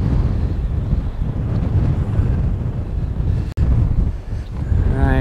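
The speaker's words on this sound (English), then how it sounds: "All right, I'll let the wind do what it wants." Strong wind buffets the microphone on a kayak out on the water, making a loud, constant low rumble with gusty swells. There is a brief dropout midway. No one speaks.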